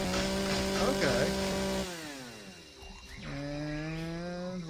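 A chainsaw in the video game Empyrion cuts a tree, its engine buzzing loudly with a steady pitch, then dropping and revving back up in two distinct surges.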